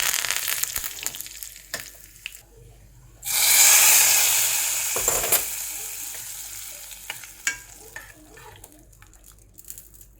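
Cumin seeds hit hot oil for a curry tempering with mustard seeds and curry leaves, giving a sudden loud sizzle that slowly fades, with stirring clicks and scrapes of a spoon against the pan before and after.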